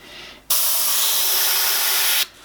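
An airbrush sprays paint over a skull stencil in one steady, loud hiss of about two seconds, starting and stopping abruptly, close up and alone.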